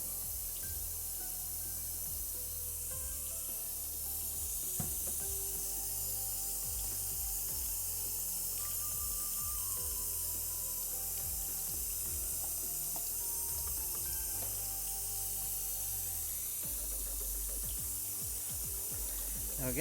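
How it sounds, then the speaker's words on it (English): Film developer poured out of a developing tank and the film rinsed with water: a steady wash of running water and spray with clicking, ratcheting plastic sounds from handling the tank, continuous and moderately close throughout. "So now we can dump this out and do our first rinse."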